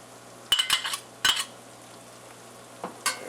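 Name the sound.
stirring paprika and garlic in frying pan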